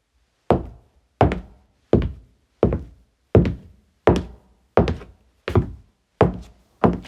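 Foley knocks on a hollow floor in an old house, ten evenly spaced, resonant thuds about three quarters of a second apart, close and clear, each with a short boomy decay and silence between.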